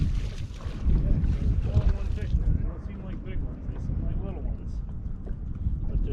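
Wind blusters over the water and rumbles the microphone while fishing from a boat in pre-spawn season, a steady low buffeting with someone talking over it.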